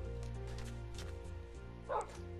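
Dogs bark and yip in Minecraft, a few quick game-audio barks over a steady hum, with one louder bark near the end.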